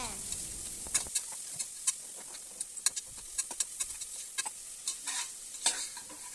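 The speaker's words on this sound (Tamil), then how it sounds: "நல்லா வெங்காயத்தை வதக்கிக்கோங்க." Onions sauté in a pan for country chicken biryani, a soft sizzle beneath sharp, irregular clicks of a spoon scraping and stirring against the metal, close and fairly quiet.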